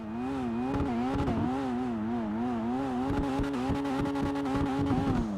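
Jester Classic sports car engine in GTA 5 Online, a steady loud drone that rises and falls in waves of pitch as the throttle shifts, with rapid rhythmic crackles running through it and no talk.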